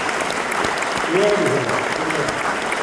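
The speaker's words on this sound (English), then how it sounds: "let us give you a round of applause" Applause at an outdoor farm heritage celebration in Perryton, Texas, as a crowd claps for the helping staff, steady and moderately loud across the short clip, with a brief voice speaking over it midway.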